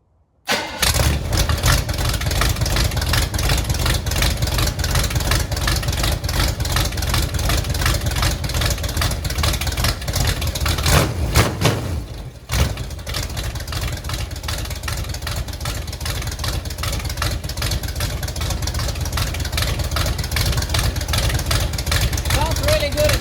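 A 1969 Chevelle engine idles loudly through its exhaust, a deep steady burble, briefly dipping once before settling back into a constant rumble.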